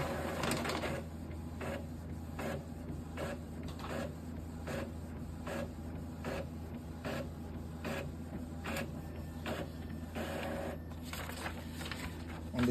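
An Epson printer makes a black copy, its mechanism feeding paper with a quiet, steady run of rhythmic clunks roughly once per second over a continuous low motor hum.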